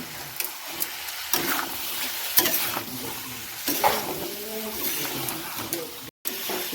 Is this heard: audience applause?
no